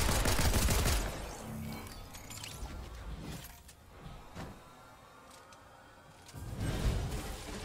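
Rapid gunfire during a Fortnite match, a few loud bursts of shots separated by quieter stretches of in-game ambience, with the last burst near the end.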